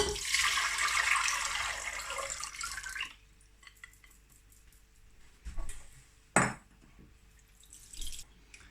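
Water pours and splashes through a sieve holding vegan caviar for a few seconds, then stops, followed by quiet drips and a couple of short clattering knocks.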